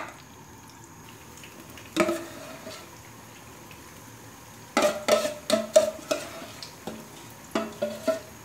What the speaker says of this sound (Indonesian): Kira-kira minyak sudah panas, kita mulai menggoreng.